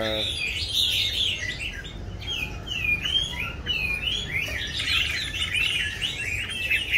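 A trained pet songbird sings continuously in varied, warbling phrases that mimic many different calls, close and clear over a steady low background hum.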